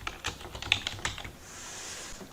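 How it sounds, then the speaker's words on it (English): Password being typed on a computer keyboard during a CentOS installation: a quick run of close, light key clicks for about a second, then quiet room hiss with no talking. "And I have to type it a second time."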